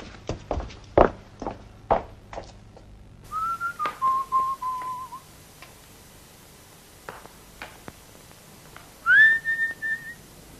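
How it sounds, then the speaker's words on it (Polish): A man whistles the Polish tune Złoty pierścionek in a few short melodic phrases, preceded by sharp clicks and taps, with quiet gaps between the whistled notes. "Gwizdał pan złoty pierścionek."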